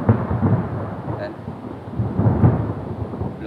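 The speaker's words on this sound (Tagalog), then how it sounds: "kulog at kidlat dito sa area na ito, parang malapit ng umuulan" Thunder rolls and rumbles as a storm approaches, deep low booms swelling and fading over several seconds with a faint rain-like hiss beneath, fairly close and without speech.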